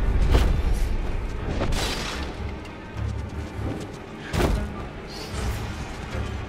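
A fire explosion attack bursts out during a Sekiro: Shadows Die Twice boss fight, sounding as several deep booming blasts and crashing impacts over a dense rumbling game mix.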